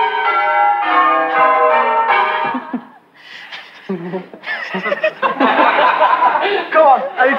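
A voice imitates a bell with sung, ringing "ding dong" tones, followed by noisy, bustling sounds and chatter.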